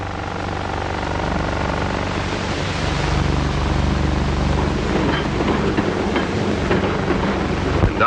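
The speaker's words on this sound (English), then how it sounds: "The engineer pulls the throttle and the train starts to move." A 1950s Santa Fe freight train starts to move, rumbling steadily with a low mechanical drone and wind noise, growing slightly louder as faint clanks and clicks of the cars set in.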